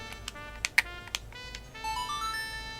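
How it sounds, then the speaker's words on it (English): Deku pipes are played as a short melodic phrase in Zelda: Majora's Mask, following a few sharp clicks, rising step by step in thin, tonal notes at low volume. "Yes, play our pipes like this."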